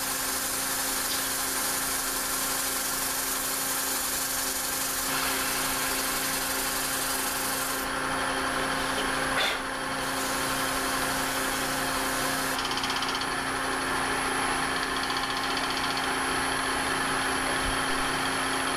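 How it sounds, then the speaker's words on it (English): A wood lathe hums steadily while 400 grit sandpaper smooths a turned bowl, a continuous close, even whir with slight shifts in tone as the paper presses against the spinning wood. "Here I'm just using 400 grit sandpaper to remove the tool marks that I made with the bowl"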